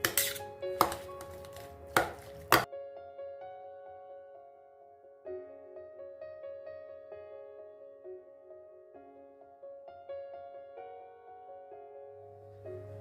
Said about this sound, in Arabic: نكمل دونك نقص الخضره